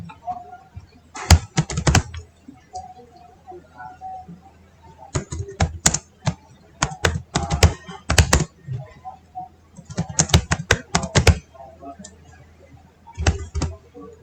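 Bursts of typing on a computer keyboard entering commands in a command prompt, with clustered rapid key clicks separated by pauses, fairly close and clear.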